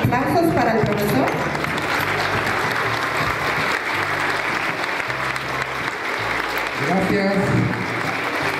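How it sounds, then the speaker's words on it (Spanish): Applause at a school event as an audience claps for a teacher: a dense, loud, continuous wash of hand claps from a crowd, with a voice speaking over it near the start and end. "Aplausos para el profesor."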